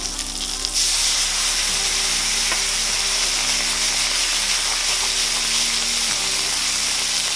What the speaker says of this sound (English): We're gonna hit this with our white wine.